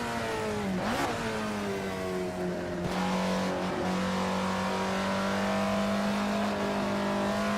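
Alfa Romeo 33 Stradale racing in Assetto Corsa through Parabolica, its engine droning steadily with a brief lift off the throttle before pulling again, loud and close throughout with no voices.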